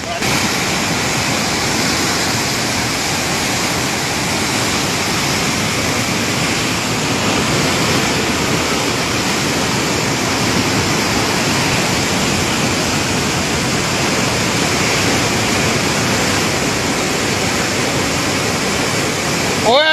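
A steady, loud roar of rushing water that fills the whole clip without letting up.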